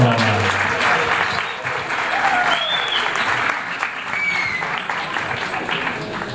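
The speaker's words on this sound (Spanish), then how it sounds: "Un aplauso para Sumersaurio." Sustained audience applause at a Spanish-language talk, a steady wash of many hands clapping throughout, fairly loud and close, with a few faint voices mixed in.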